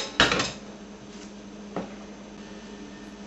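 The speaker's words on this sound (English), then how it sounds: "Take two forks, shred it all up." Two metal forks shredding cooked chicken in a bowl, heard as a sharp clatter of metal on the bowl, then a few lighter scrapes and taps spaced out over a quiet background.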